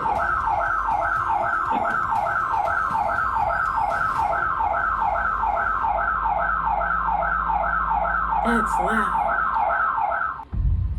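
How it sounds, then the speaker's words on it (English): A home alarm set off after a doorbell-camera confrontation with intruders wails in a fast, steady repeating warble for about ten seconds, loud and close, then cuts off as a brief word is spoken. "And triggering an alarm."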